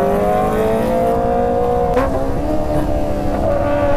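A motorcycle engine running poorly with weak pull, droning loud and close with a steady rough tone and slight rises in pitch, no talk over it.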